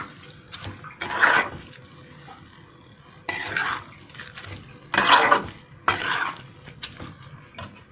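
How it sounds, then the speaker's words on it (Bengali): Rice is stirred in a pan for Bengali muri ghonto, with several short bursts of scraping and rustling that come in uneven strokes between quieter pauses. "ভালো করে চালটাকে দিলাম, চালটাকে দিয়ে এবার ভালো করে নেড়ে নিলাম।"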